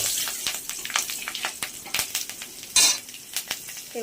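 Green chillies and black cumin (kalo jeere) sizzle in leftover fish-frying oil for a Bengali rohu mustard dish, a close crackling fry with sharp spits and pops, no talking.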